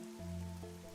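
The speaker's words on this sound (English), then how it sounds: "The rain, it never stops." Steady rain falls in the video game Master Detective Archives: Rain Code Plus, a soft continuous patter under a sustained low musical drone, alone and moderately loud throughout.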